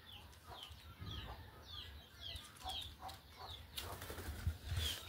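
Caged bird flapping its wings as it leaves the cage, with soft wing flutters among repeated chirpy clucking calls, fairly faint against a quiet outdoor background.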